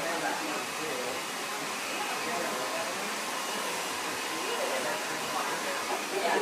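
A handheld hair dryer blows a continuous, close airy rush as liquid wax is worked into short hair, steady in volume with slight swells, and no talking over it.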